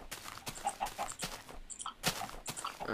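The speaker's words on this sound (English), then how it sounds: "Dude, there's lots of chickens here." Chickens cluck in a Minecraft world, short blocky game-style calls repeating at moderate volume alongside other game sounds and footsteps.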